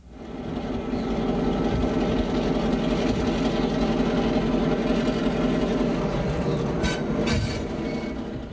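A diesel locomotive train rolls along rails at a railway museum, a loud steady rumble with the rhythmic clatter of wheels and brief high squeals near the end.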